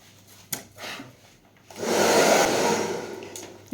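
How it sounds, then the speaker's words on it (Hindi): A hair dryer starts up partway through and runs loud and steady at full speed, a broad airy roar while drying hair, preceded by a few soft rustles and handling noises. "ये फुल स्पीड पे चल रहा है क्या ड्रायर?"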